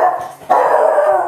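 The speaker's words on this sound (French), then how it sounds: "Un chien charmant." A small dog lets out a few short yips followed by a longer whining bark, close and loud, with no speech.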